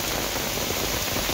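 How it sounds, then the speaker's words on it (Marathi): Heavy downpour around a hotel in Matheran during the monsoon, a steady dense hiss of rain hitting surfaces, loud and unbroken throughout with no voices. "काय प्रचंड पाऊस आहे"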